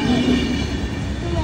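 A train rolls past in snowy weather with a loud, continuous rumble and faint wheel squeal, heard only briefly.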